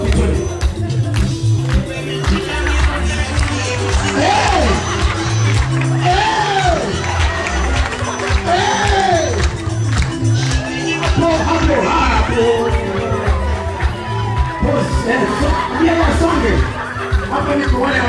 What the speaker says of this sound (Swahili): Makofi twende.